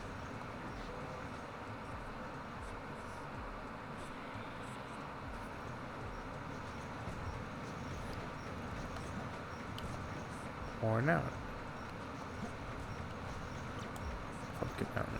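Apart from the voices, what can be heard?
train circling a mountain in video game Sonic Adventure 2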